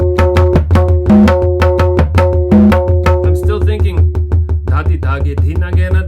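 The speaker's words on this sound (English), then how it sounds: "and then I decide I'm just gonna let the Baya run" Tabla played with the bass baya drum struck on every pulse, giving a steady run of close, resonant pitched strokes in a quick even rhythm, with sharper treble strokes mixed in.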